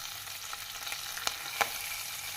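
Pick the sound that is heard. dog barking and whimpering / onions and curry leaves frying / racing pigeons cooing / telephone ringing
onions and curry leaves frying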